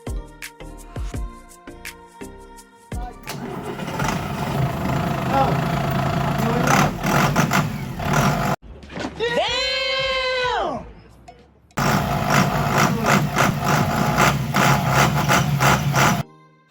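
A cruise ship tender boat's diesel engine is started and test run after fuel injector work, roaring loudly in stretches broken by sudden cutoffs, with a brief warbling tonal sound in one gap.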